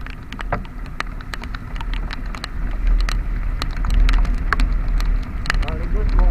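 Rain at night on a road ride, heard as a steady wet hiss with scattered sharp drop taps close to the microphone, over low rumbling vehicle noise.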